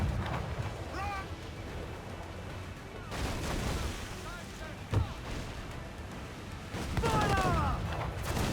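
Broadside cannon fire from sailing warships in Assassin's Creed Black Flag, heavy booming blasts clustered near the start and end with a sharp shot midway, over rumbling sea battle noise while crew voices shout.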